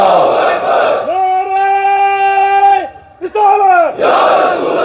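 A large congregation at a Friday sermon shouts a religious slogan, a loud sustained group chant in unison that swells, breaks off briefly, and resumes.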